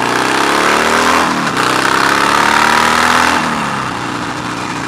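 A motorcycle engine rumbles loudly through aftermarket exhaust pipes close by, holding a steady growl with a short dip and then a slight easing toward the end.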